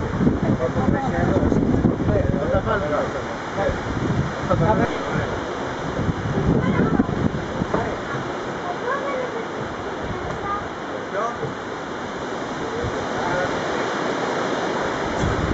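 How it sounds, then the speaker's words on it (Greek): Strong wind blows outdoors at an Easter gathering, buffeting the microphone with a constant rushing roar, while people talk underneath throughout. "γιατί φυσάει πολύς αέρας"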